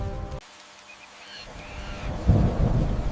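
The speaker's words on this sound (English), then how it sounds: "The river surface is quiet again, except for the pouring rain." A thunderstorm with pouring rain over the Amazon river, as a low rumble of thunder gives way to a swelling, dense hiss of heavy rain that grows louder toward the end.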